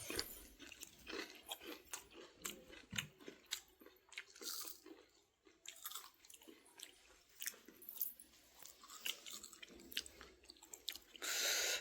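A person eating while lying under a blanket on a winter evening, close, quiet, moist chewing and small crunches in an irregular rhythm, with soft rustling and no talk.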